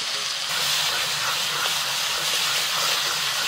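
Drumstick pulp dropped into a pan of fried spice paste with Kashmiri chilli powder, setting off a loud, steady hissing sizzle close by that holds for several seconds.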